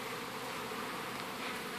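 A swarm of Africanized honeybees drones steadily up close, a dense, continuous buzz with no pauses and no voices.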